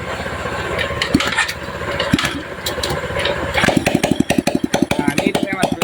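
A Suzuki engine turns over, starts and settles into a running idle, its firing pulses becoming a steady, rapid close-up chug toward the end while someone talks over it.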